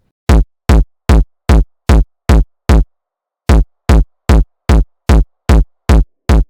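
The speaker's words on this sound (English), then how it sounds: "I'll have a more distorted kick." A heavily distorted kick drum in a beat, layered over a four-on-the-floor kick, thumps out loud evenly spaced hits: seven, a short gap, then seven more, with no other sounds.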